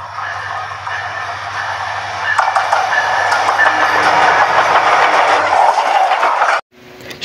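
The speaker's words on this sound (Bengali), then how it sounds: "সোনার বাংলা এক্সপ্রেস ক্রস করতেছে ভৈরব বাজার জংশন" Sonar Bangla Express, a non-stop train, passing through Bhairab Bazar junction in Bangladesh: a loud, steady rumble of rail cars that swells midway and carries on for several seconds, then cuts off abruptly.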